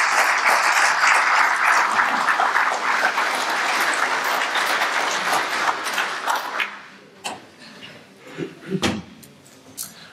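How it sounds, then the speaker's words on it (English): Loud audience applause for a speaker at a police corruption and accountability presentation, dense steady clapping for about seven seconds that then thins out into a few scattered claps and small knocks. "So big round of applause for Ian."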